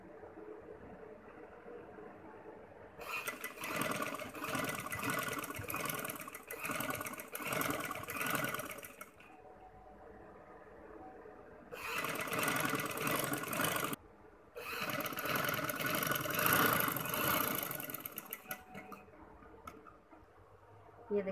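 A sewing machine stitches ring lace in three long runs of rapid, steady whirring, separated by brief pauses with a quieter mechanical hum.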